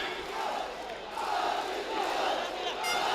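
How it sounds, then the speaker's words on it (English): Fiji supporters roar and cheer from the stands during a 2014 OFC U-20 Championship football match against the Solomon Islands. The sustained crowd noise rises and falls over a few seconds, with a voice faintly audible beneath. "We hear the Fiji cheer now."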